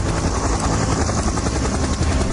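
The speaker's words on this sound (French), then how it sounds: "Ils décident de louer un hélico pour se rendre sur l'île d'Eiaho." A hired helicopter flies toward a remote, deserted Pacific island, its rotor drone loud, steady and continuous with dense broadband wash, no voices over it.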